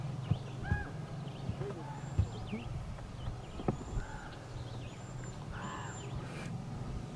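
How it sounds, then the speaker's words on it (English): Birds call near the water while fishing on the Turtle-Flambeau Flowage in mid June. Several short chirping and whistled calls come at a moderate distance over a steady low drone. "Okay, we got some birds over here. Annoying."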